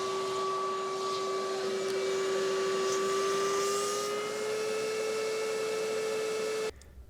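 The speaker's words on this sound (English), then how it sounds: "with a shop vac, I'm going to attempt to vacuum out the residual fluid" A shop vac runs steadily, drawing residual coolant out of the heater lines of a 2003 Toyota Camry during a heater core replacement. Its constant whine holds for about seven seconds, close and loud, then cuts off abruptly.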